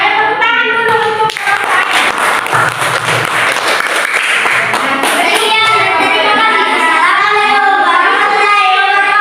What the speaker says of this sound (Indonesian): Ayo tepuk tangan dulu untuk